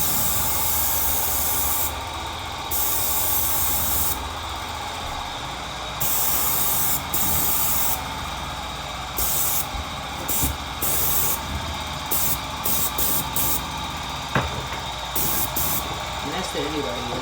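A paint sprayer applies wood primer to trim, giving bursts of airy high hiss that start and stop repeatedly over a constant compressor drone, with a person talking intermittently underneath.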